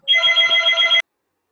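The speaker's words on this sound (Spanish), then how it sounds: "ahorita justo está sonando el" A telephone rings once, a steady electronic trill lasting about a second that cuts off abruptly into silence, heard during an online physics class.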